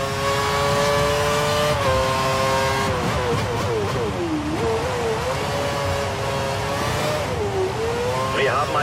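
Engine of a Formula 1 car in the F1 2013 racing game at the Spanish circuit, a loud continuous high-pitched whine that rises and falls through gear shifts, with a radio voice speaking over it.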